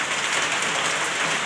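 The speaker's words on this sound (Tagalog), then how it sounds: "dahil na umuulan, na may bagyo" Heavy rain from a storm pours steadily onto surfaces close by, a dense unbroken hiss that stays even for the whole stretch with no voices.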